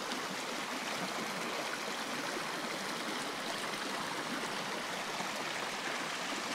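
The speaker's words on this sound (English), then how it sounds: "noisy little creek" A small, noisy creek flows steadily on rural forest acreage, a continuous broadband rush of water heard close and alone without any talk.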